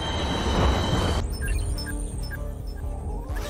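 An LRT light rail train in a Malaysian animated show rolls past with a loud rumbling clatter, then shifts into ringing metallic wheel squeals and rhythmic low thuds as it runs on.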